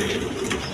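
Pigeons kept for sale cooing nearby, a soft low coo under a busy background of rustling and noise.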